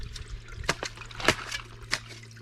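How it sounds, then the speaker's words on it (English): Water trickles and splashes from a hose outflow at a spring-fed spring box, with a low steady flow and a few louder splashy bursts, close by and fairly faint. "you can see the water's coming out there now"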